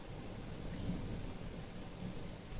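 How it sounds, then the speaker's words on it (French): Steady heavy rain roaring close by, a dense continuous wash of noise with a low rumble underneath and no talking. "Ouh, il pleut bien."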